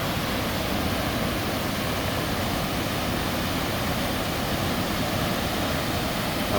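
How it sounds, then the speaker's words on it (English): A waterfall on the McKenzie River in Oregon gives a steady, dense roar of rushing water, loud and unbroken with no voices. "That's a pretty cool waterfall."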